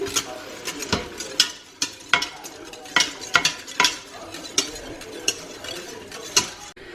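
A whisk clicks and scrapes around a metal pot as garlic paste is stirred into deglazing liquid for an Instant Pot chuck roast, a steady rhythm of sharp close taps with no talking.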